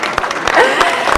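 An audience applauds at the opening of a shop, Inside Arreda, with a short burst of dense clapping under a voice addressing the crowd.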